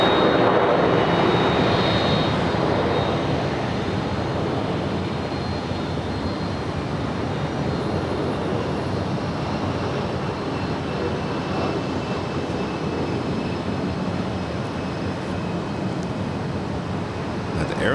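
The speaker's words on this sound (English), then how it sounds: "New Zealand Dreamliner heading back to Auckland, flight 1003, making her way over." An Air New Zealand Boeing 787 Dreamliner passes overhead after departing Los Angeles for Auckland, its broad, steady jet roar loudest at the start and holding as a continuous rumble throughout.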